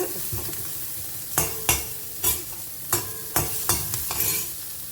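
Shallots sautéing in a pan for vegetable soup give a constant sizzle, with a spoon stirring and scraping against the pan in repeated strokes, close and clear. No voices.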